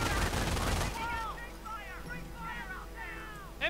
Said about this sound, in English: And German MG42 fires off on the Riflemen